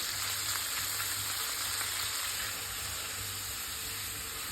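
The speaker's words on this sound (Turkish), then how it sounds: "300 gram yarım yağlı dana kıymasını ekleyip güzelce kavuruyorum" Minced half-fat beef fries in oil in a pan, giving a steady, dense sizzle and hiss that runs unbroken throughout, close and fairly loud, with no talk.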